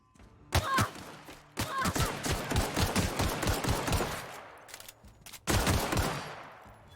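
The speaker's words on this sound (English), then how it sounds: "The fuck is shooting you?" Bursts of automatic gunfire in The Outer Worlds, loud and close, with three separate volleys of rapid shots that each trail off, the last one sharp and sudden.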